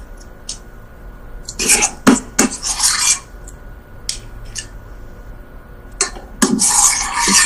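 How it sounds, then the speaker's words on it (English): A spatula scrapes down a bowl to get the last of a keto recipe mixture out, in several loud, raspy strokes separated by quieter gaps, with a few small clicks between them. "Just scraping it down with a spatula to get that last bit out of there."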